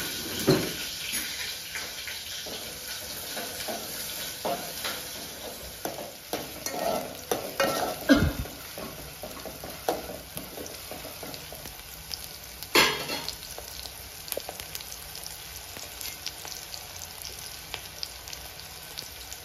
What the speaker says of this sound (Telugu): ఆయిల్ వేడైన తర్వాత కట్ చేసి పెట్టుకున్న ఆనియన్ పచ్చిమిర్చి అయితే వేసుకుంటున్నాను. ఇది కొంచెం ఫ్రై అవ్వాలి మంచిగా.